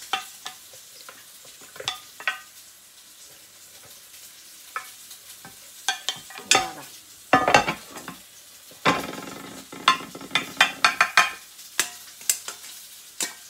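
Beef meatballs and onion fry in a pan, a soft constant sizzle broken by sharp scraping stirs and utensil clacks against the pan.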